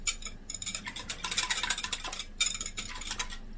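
A utensil scrapes and clinks against the inside of a metal pot of Turkish flu soup in a continuous stirring rhythm, close and fairly clear, with no talking.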